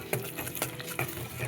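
A spoon stirs a spice mixture of salt, coriander powder, chilli and garam masala in a pan, giving short rhythmic scraping and clinking strokes, close and fairly loud against a soft background hiss.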